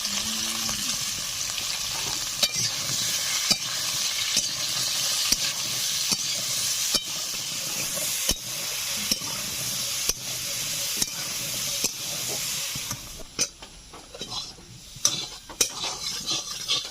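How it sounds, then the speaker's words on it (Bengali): Constant crackling sizzle of hog plums frying in hot oil for pickle, with repeated scraping and clinking as they get stirred, growing more clattery near the end. "আমড়াগুলো ভাজা হতে থাক"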